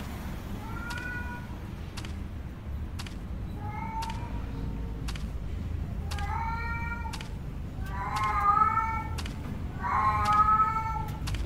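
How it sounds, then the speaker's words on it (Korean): Cats meowing in a video game, a series of short distinct meows that grow louder and longer toward the end, over a low steady background hum. "고양이 소리가 막 들리긴 하는데."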